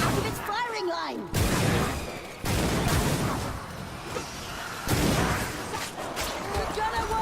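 Heavy, rumbling video game gunfire and booming blasts continue almost without a break, with loud bursts and a dense roar of shots while a voice shouts over the din.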